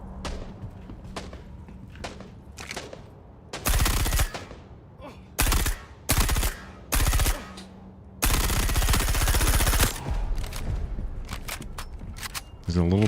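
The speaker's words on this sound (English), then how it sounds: "Somebody else is shooting up." Bursts of automatic gunfire from a firefight in the Star Citizen video game, several loud sustained volleys and short bursts spaced across the clip, with quieter ambient game sound between them.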